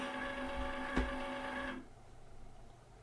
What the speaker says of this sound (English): I forgot to turn on my Cricut. So it's searching, it's right here.